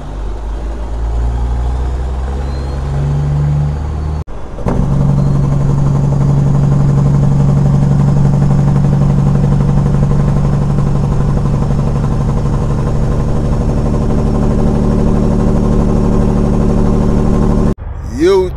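A loaded semi truck hauling watermelons shifts down a gear, its heavy engine droning steadily and loud, the pitch rising after a brief break in the sound, with the engine filling the cab throughout.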